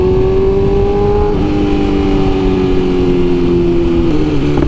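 A 2022 BMW S1000RR motorcycle engine held in neutral against its rev limiter, giving a loud, steady high-pitched drone with a slight dip partway through and a brief stutter near the end, with no voices.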